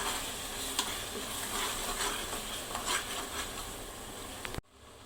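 Coriander, ginger, garlic and chili paste sautéing in a pan with a steady close sizzle and scraping stir strokes, cutting off abruptly near the end.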